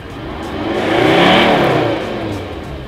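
A fast car accelerates and revs, its engine note swelling to a loud peak mid-clip before easing off, close up and continuous with no talking.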